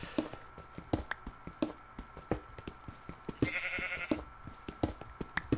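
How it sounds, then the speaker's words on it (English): Sheep in a survival video game bleat over and over, a fairly close chorus of overlapping calls set against a steady ambient game drone, with a longer, louder bleat near the middle. "Oh my god, these sheep! Shut the hell up!"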